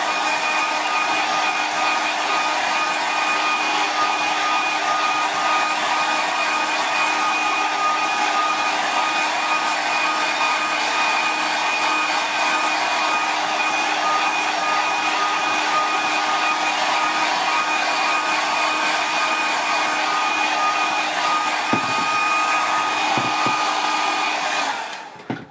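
A hair dryer blows on watercolour paint with a steady, loud, unbroken whir for about twenty-five seconds before switching off with a brief sputter at the end.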